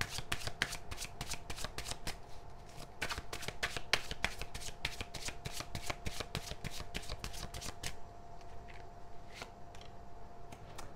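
Tarot cards are shuffled by hand in a fast, continuous flutter of crisp riffling snaps, close and steady for several seconds in a quiet room.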